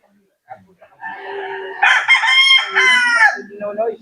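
A young fighting rooster, about five months old, gives a single full crow, close and clear, with faint clucks and background voices around it.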